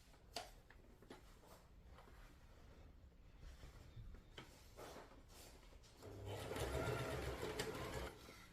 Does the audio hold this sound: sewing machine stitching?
yes